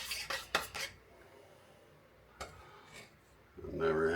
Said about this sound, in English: We're just stirring this in real quick.